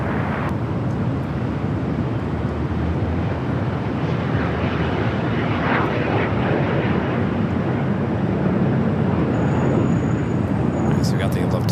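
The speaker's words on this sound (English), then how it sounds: "So we got the Lufthansa Queen heading out here for a north side at takeoff." Airliner jet engines roar steadily at LAX during a north-side takeoff, a loud continuous broadband rumble with wind buffeting that persists throughout.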